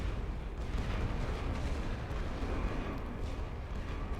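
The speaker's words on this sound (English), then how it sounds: "They're under artillery fire here." Sustained artillery fire in the video game The Great War: Western Front, a steady rumbling barrage of booms blending into one continuous roar with no talking.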